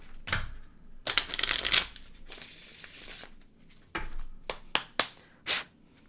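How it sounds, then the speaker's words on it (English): Tarot cards being shuffled by hand, a run of papery riffling and flicking bursts with quieter rustles and a few sharp snaps between them, close and fairly soft. "Do 3 more shuffles."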